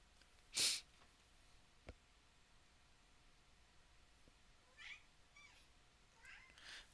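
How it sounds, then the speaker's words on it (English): A pet cat meows faintly a few times in the background of a quiet indoor room, one brief louder call early on followed by softer scattered cries, with no talking. "Might be able to hear my kitty in the background."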